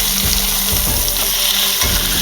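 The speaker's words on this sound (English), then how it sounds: "so they're browned on this one side for about 3 minutes" Chicken pieces browning in a frying pan sizzle loudly and continuously, a dense, steady crackle of hot fat close to the microphone with no talking.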